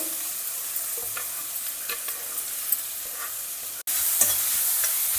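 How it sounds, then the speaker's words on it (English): Grated raw mango and grated ginger stir-frying in a kadai, a steady soft sizzle broken by occasional scrapes and taps of a spatula, close and continuous with no talking. "Stir fry it till the mango becomes a little soft."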